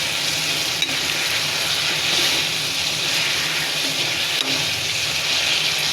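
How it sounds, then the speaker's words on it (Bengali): Chicken pieces frying in a pan with spring onion, a loud, continuous sizzle and hiss of hot oil as moisture cooks off, with faint stirring scrapes mixed in. "মাংসগুলো 5 মিনিট ধরে ভেজে নিতে হবে, উল্টে পাল্টে নিয়ে পানি শুকানো পর্যন্ত"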